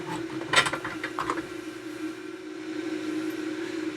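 Pliers pulling a snipped battery holder stub out of a Yamaha SY99 synthesizer's circuit board give a short cluster of scraping clicks early on, then quiet with a steady hum beneath.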